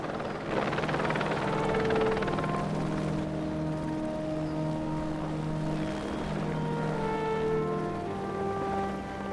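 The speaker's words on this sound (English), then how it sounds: "Then the helicopter kind of flies overhead" A rescue helicopter flies overhead, a steady broad roar with tonal whine holding throughout, fairly loud and continuous with no talking.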